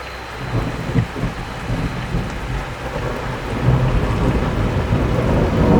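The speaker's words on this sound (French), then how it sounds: "Il commence à bien pleuvoir." Heavy rain pours steadily during a thunderstorm with a deep low rumble of thunder rolling underneath, building slightly louder toward the end.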